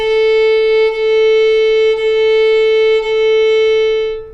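A bowed string instrument, likely a fiddle, plays connected legato notes on one steady pitch, the bow changing direction about once a second with only tiny dips between strokes, clear and close with no talking.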